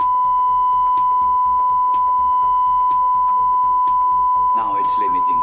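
A steady 1000 hertz test tone runs unbroken through a QSC USA 1300 amplifier under output power testing, with faint background noise and a short burst of clatter near the end.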